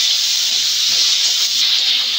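Fried potatoes hit a pan of spice masala for Bengali egg curry, giving a steady, loud, close hiss and sizzle that holds evenly throughout with no talking.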